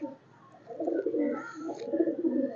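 Low, breathy cooing from pet pigeons kept by a breeder, a few soft rolling calls repeating across a couple of seconds at moderate distance, with no talk over them.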